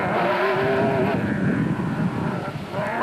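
A Ford rally car roars through an off-road desert race, its engine droning and shifting pitch at a distance with steady broadband rumble and wind, continuous and fairly loud.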